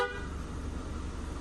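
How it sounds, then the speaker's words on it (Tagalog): An old car horn on a Honda Civic honks in one sustained, steady blare lasting the whole moment, close and fairly loud. "Bali ito yung lumang busina, paparinig ko ha."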